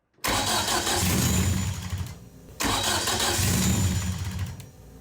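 A Ford Fiesta Mk1 with a compound turbo setup cranks and fires up twice in a row, its engine catching loudly and running rough and close, with a brief drop between the two starts.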